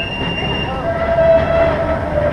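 Open streetcar tram passing along a street in central Santos, with a steady rolling rumble and a thin wheel squeal rising over it, heard close from a bicycle.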